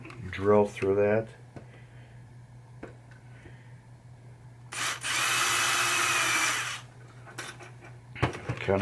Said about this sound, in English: Can I drill through that?